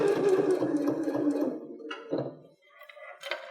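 A sewing machine stitches fabric for a 3D mask template in a short burst of whirring, then slows and pauses, with a few soft clicks and thunks of fabric handling afterward.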